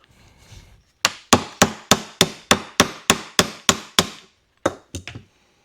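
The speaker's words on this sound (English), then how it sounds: "Need a hammer. There's a hammer." Steady hammer blows ring out while working on an old Kawasaki motorcycle, about ten sharp evenly spaced strikes, then a short pause and a few lighter taps.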